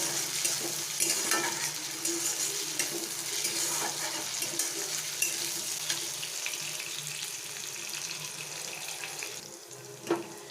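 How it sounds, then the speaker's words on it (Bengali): Chopped ginger and green chilli sizzle in an oiled pan, a steady close crackling hiss with scraping stirs throughout and one sharper clank near the end, without any talk. "দেখুন আদা কুচি লঙ্কা কুচিগুলো একটু নাড়াচাড়া করে নিয়েছি"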